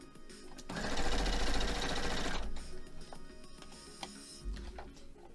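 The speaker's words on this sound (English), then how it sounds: "You can actually hear it whenever my needle hits the pins." Home sewing machine stitching quilt fabric with the needle striking pins, a fast mechanical whirr for a couple of seconds, then scattered sharp clicks and ticks as it slows, close and fairly quiet.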